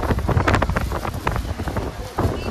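Sea wind at Dheusagar beach in Digha buffets the microphone with a loud, steady, gusty roar that swells and dips across the few seconds, with a faint crowd murmur beneath.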